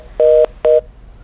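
Two loud, clean telephone keypad DTMF tones, each lasting about a quarter second with a short gap between them, sound alone during a live broadcast after a phone call to a guest drops.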